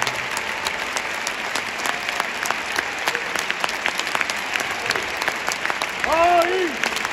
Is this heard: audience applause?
yes